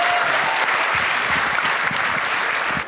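Dense, close applause from a stand-up comedy crowd, continuous and even with many hands clapping at once, cutting off abruptly at the end.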